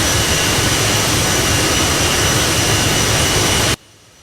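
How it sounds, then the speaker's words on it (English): A loud, steady jet engine roar from a flight simulator game, an Aerosoft CRJ 1000 in MSFS, drones evenly without voices, then cuts off abruptly into near silence. "We have some engine sound"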